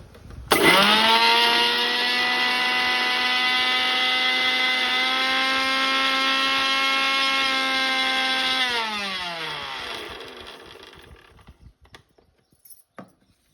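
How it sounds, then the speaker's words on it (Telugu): A mixer grinder whirs at a steady high pitch for several seconds while grinding gongura chutney, then winds down and stops, leaving a few faint clicks. "మిక్సీ చేసుకోవాలి."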